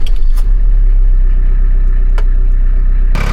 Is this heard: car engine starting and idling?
yes